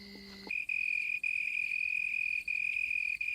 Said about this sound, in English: The leaf is the cricket's soundboard, and the sound produced is magnified in intensity as much as 3 times.